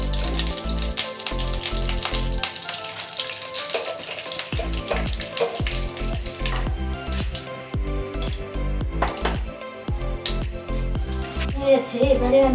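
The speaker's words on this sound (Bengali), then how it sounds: "কড়াইতে আমি 2 টেবিলস্পুন ঘি দিয়ে দিলাম" Dried chillies, bay leaf and cumin sizzle in ghee in a kadai, a bubbling, spitting fry punctuated by clinks and scrapes of a spoon, while a voice talks over it.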